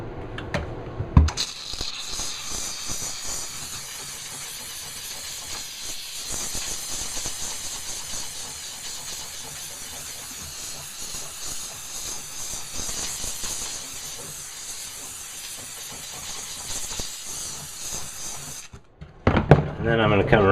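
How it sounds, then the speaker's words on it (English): McCulloch MC1275 steam cleaner jetting steam, a steady loud hiss with crackling, sputtering bursts that runs for most of the span, then cuts off sharply near the end. "Now I'm going to come in with a steam."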